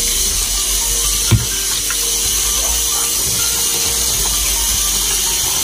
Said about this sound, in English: So that's all the rosemary there, and I'm going to wash it before I boil it.